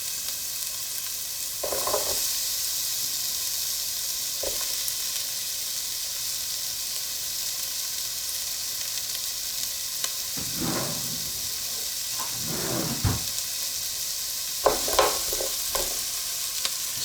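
A large batch of onions sizzles steadily in a hot pan for a chicken curry, a continuous frying hiss with occasional louder stirring scrapes and clatters.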